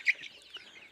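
Young desi chickens, about 53 days old, give short, faint, high clucks and peeps on a poultry floor, a few brief calls scattered over a quiet moment.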